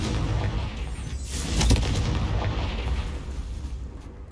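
The Confringo explosion spell in Hogwarts Legacy, a loud booming blast with a sharp impact near the middle, over a rumbling, roaring background.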